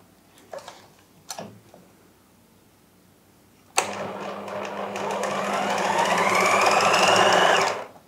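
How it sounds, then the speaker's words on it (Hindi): Sewing machine running steadily for about four seconds while stitching the hem of a round-flared kameez shirt, preceded by a few brief clicks and taps of handling the fabric. "इसी तरह से आपने अब यहाँ पे भी बैक पे सिलाई लगानी है।"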